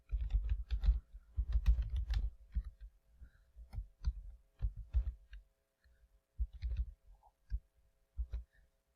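Login name and password typed on a computer keyboard in irregular bursts of close, crisp key clicks with short pauses between, no voices.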